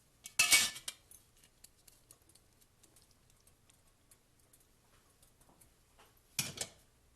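Metal utensils clink against a pot as cooked pasta is combined with sauce, two short sharp clatters at the start and end with quiet, faint ticking between.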